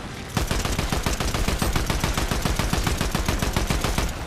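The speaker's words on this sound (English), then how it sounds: "Recoil on this gun is insane." Rapid automatic gunfire from a gun in Fortnite, a loud, dense burst of evenly spaced shots that barely stops, with no voices over it.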